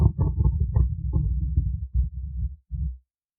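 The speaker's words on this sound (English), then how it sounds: "That's the thread wearing every time it goes through the hole." Sewing thread drags through a needle's eye and a hole in fabric as it is pulled, a close, low, rasping rumble in uneven strokes that stops after a few seconds.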